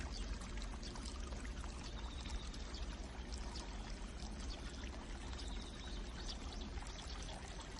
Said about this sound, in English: A continuous stream of spring water is piped right into a basin, so fresh water is always available.